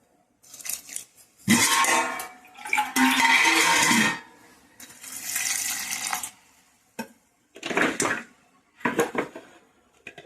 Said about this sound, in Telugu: వాటర్ పోస్తున్నాను ఇందులో